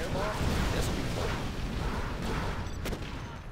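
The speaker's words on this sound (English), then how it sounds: "Particle cannon ready. Yeah. Fire it." A particle cannon fires in Command & Conquer Generals Zero Hour as part of a USA laser army battle, giving rumbling booms and blasts over busy battle noise, with a sharp crack near the end.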